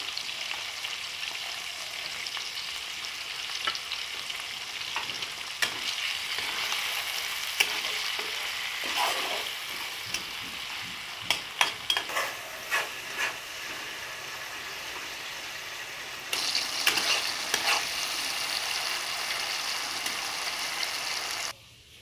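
Ingredients for a mustard-paste fish dish frying in a pan, a continuous hissing sizzle with scattered pops and stirring scrapes, growing slightly louder and brighter near the end.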